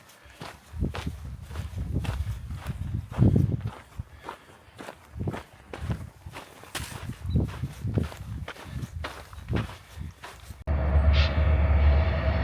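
Footsteps crunch along steadily on a desert trail in Arizona, then a freight train carrying ore away from a copper mine rolls in at a distance with a deep, steady rumble.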